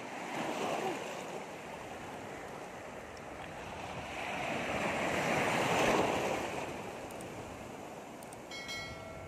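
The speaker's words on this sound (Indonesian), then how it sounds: "ombaknya lumayan guys" Ocean waves at a tourist beach wash ashore in a continuous, moderately loud roar that swells and fades, heard close from the shoreline without speech.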